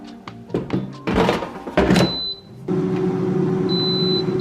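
An air fryer basket is slid back into the unit with a few solid thunks and clatters, followed by a short beep and the fryer's steady running hum.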